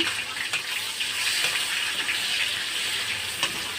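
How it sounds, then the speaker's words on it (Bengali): Chopped onions frying in hot oil with panch phoron, two bay leaves and crushed garlic, a steady close sizzle with faint crackles and no talking. "পেঁয়াজগুলোকে লাল লাল করে ভেজে নেব"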